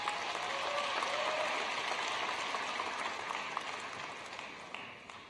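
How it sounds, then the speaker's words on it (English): A commencement crowd applauds in a large hall, a dense crackling wash of many hands that holds steady and then slowly thins toward the end, heard at a moderate distance. "Please give her a round of applause."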